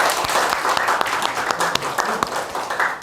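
A church congregation applauds in welcome for a visiting missionary couple during a Sunday service, with dense steady clapping filling the room and a few sharper claps standing out, holding level to the end.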